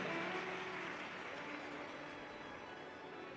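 Audience applause of welcome at a live Shri Shiv Mahapuran religious discourse in Kanker, Chhattisgarh, a dense steady wash of many hands clapping that gradually eases in volume, with no speech over it.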